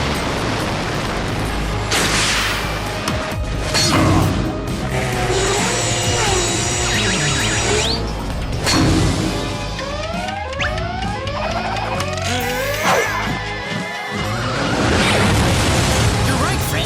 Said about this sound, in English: These are the best Halloween fireworks I've ever seen.